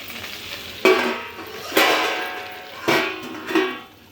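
Okra fry being stirred in a pan over a low flame: four distinct scraping strokes of a spatula over a soft, steady sizzle, close and fairly loud, with no talking.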